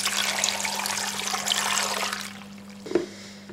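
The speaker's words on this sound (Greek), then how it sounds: "Σε αυτή την ποσότητα κιδονιών θα ρίξουμε 1800 ml νερό." Water pours steadily into a pot of quinces for about two seconds, a continuous splashing rush that then stops abruptly. A single clunk of the pot follows in the quiet.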